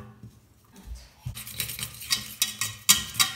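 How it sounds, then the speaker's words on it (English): Flour being stirred into melted butter in a pan: a soft low thump, then a steady series of close scraping and tapping utensil strokes against the pan, growing slightly louder and more rhythmic. "I'm going to add 40 grams of flour"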